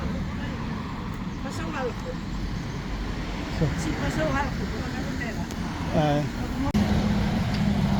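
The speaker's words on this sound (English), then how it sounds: "there's a whole lot of traffic this morning" Morning road traffic on the pilgrim route from Padrón to Santiago de Compostela, with cars and heavier vehicles passing at moderate distance in a continuous roadway hum, while a person talks over it.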